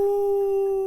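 A human voice imitates a dog's howl, holding one steady, drawn-out note for under a second with no other sound around it.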